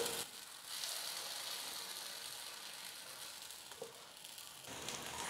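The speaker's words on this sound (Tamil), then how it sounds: "ஸ்டவ்வை குறைச்சி வச்சுட்டே குக் பண்ணிக்கலாம். கொஞ்சம் நேரம் நல்லா வேகட்டும்." Kuzhi paniyaram batter fries in a pan over a lowered stove flame, giving a soft, steady sizzle with faint crackles throughout, heard alone and fairly quiet.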